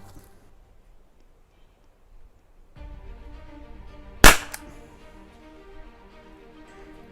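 A single sharp crack from an HDP50 gas pistol fired at a target, loud and close, stands out against a quiet room hum and fades quickly.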